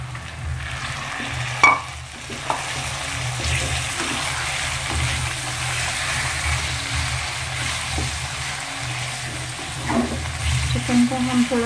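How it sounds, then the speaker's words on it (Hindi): Chicken pieces fry in a pan with a continuous hiss and bubbling sizzle, punctuated by occasional scrapes and knocks of a stirring spoon, steady and moderately loud with no talking. "चिकन को हम थोड़ा सा फ्राई कर लेते हैं।"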